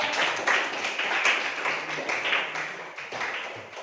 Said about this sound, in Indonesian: untuk lebih semangat tepuk tangan dulu untuk kelompok 2